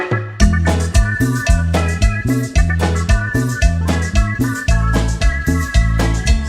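A band plays a cumbia mix live at a village event in Chichicastenango, Guatemala, with a steady, driving beat, punchy repeating bass and bright melodic layers, loud and continuous.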